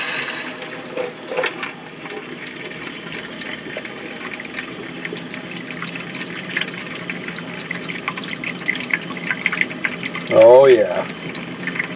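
Water running from a faucet inside an RV, a steady close wash under the sound with a brief spoken remark near the end.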